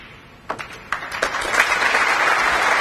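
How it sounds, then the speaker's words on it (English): Snooker crowd at a Masters match begins with a few scattered claps, then swells into steady, building applause that holds at full level through the end, heard at moderate distance. "Applause from the crowd"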